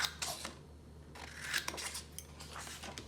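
Gold metal scissors with sharp blades snip through a paper coloring page, giving several short crisp cutting strokes in a quiet room, fairly faint and close.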